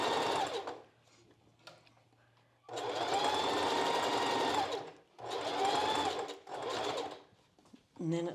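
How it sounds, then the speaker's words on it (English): A sewing machine straight-stitches through strapless bra fabric in several separate bursts of rapid, close mechanical chatter, with quieter gaps between runs. "we're just going to start sewing"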